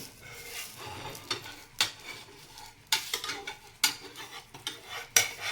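A green moong dosa being flipped on a hot pan over a low flame: a soft background sizzle broken by several sharp spatula scrapes and knocks against the pan, close and fairly quiet, with no voices.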